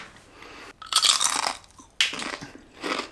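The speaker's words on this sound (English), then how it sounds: "It has a good crunch." Loud, close crunching as someone bites into a crispy chip, a healthy version of a cheat-meal snack, and chews, several sharp crackly bursts with brief pauses between and no speech.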